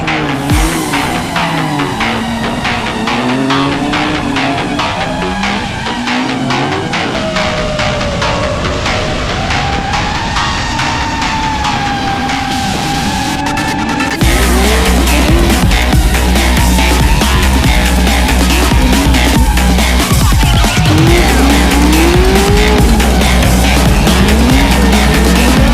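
Drift cars race nearby with engines roaring loud and rising and falling, tires squealing and skidding throughout, and the din growing denser and heavier in the second half.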